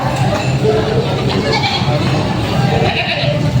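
Goats bleating amid a busy livestock market selling a buck and does with kids, repeated calls close by over constant crowd noise and chatter.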